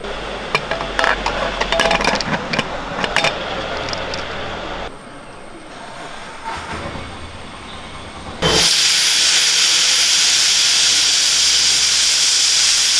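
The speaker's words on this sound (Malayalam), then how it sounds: "ഒരു വിസിലടിച്ച് എടുത്തിട്ടുണ്ട്" A pressure cooker whistles on the stove while dal cooks. After a noisy start and a quieter hissy stretch, a loud, steady jet of steam bursts in and keeps going until the end.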